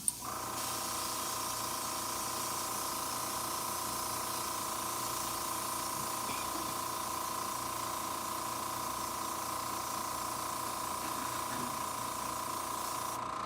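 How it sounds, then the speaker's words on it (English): Steady, continuous hiss of a spray gun laying primer onto miniatures, held evenly at a close, constant level with no pauses. "If you pull that trigger back, that's when the paint releases"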